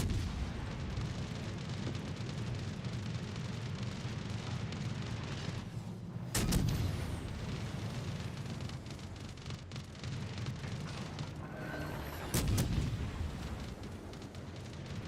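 Heavy guns fire continuously in a naval combat video game, with a dense rumbling barrage that goes on throughout and two sharper, louder blasts breaking through at intervals.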